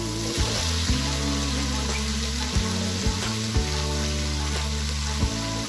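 Potatoes added to a pan of cooked meat for mixed rice sizzle loudly and steadily, with a few faint clinks of a utensil against the pan.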